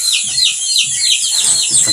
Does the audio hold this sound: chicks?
yes